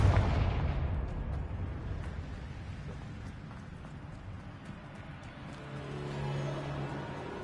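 Booming blast from the Confringo fire spell in the video game Hogwarts Legacy, a loud low rumbling impact at the start that decays into a crackling, rain-like roar and swells slightly again near the end.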